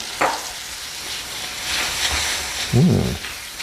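Butter and nuts for microwave brittle sizzle softly in a hot pan, a steady faint crackle with a couple of brief louder bursts of frying.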